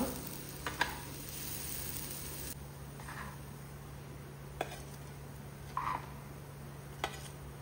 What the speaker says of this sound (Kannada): ಒಂದು ಸೈಡ್ ಫ್ರೈ ಆದ ನಂತರ ಎಲ್ಲವನ್ನು ಟರ್ನ್ ಮಾಡಿ ಹಾಕುವ